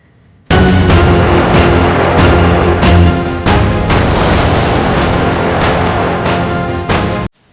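A long, loud string of firecrackers bursts in rapid, dense crackling at a public opening ceremony for a drinking-water stall in Kumbakonam, with several sharper bangs, then stops abruptly.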